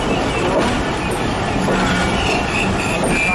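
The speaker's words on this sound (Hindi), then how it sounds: "ट्रेन 2 मिनट रुकने के बाद अगले स्टेशन लाला मूसा के लिए रवाना हुई।" Jaffar Express passenger train running on rails between Jhelum and Lala Musa, a loud, continuous rolling rumble with wheel noise and faint squeal, heard from inside a crowded carriage with murmured voices beneath.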